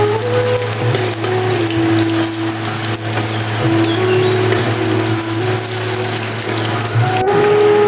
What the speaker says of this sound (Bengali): মোচার রাজকন্যাগুলি তেলে একে একে ভেজে নিচ্ছি।